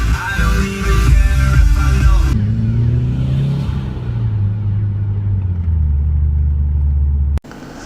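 A boy racer car engine in a video game revs loudly and steadily, its droning pitch rising and falling over several seconds before cutting off abruptly near the end.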